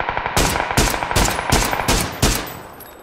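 Gunfire in the video game PUBG, a rapid automatic burst followed by several loud, evenly spaced shots that echo, close and dominant with no talking over them.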